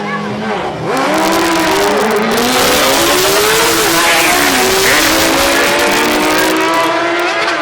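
A drag racing car launches and accelerates down the track, its loud engine roaring with rising, sweeping revs that stay close and dominant throughout.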